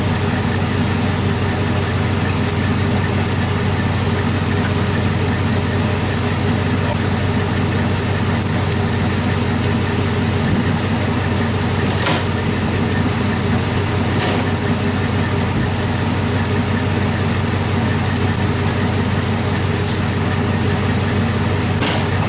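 A tractor engine, one also used for weed whacking, runs continuously as a loud, steady drone with a rough rumble and no pauses or talking.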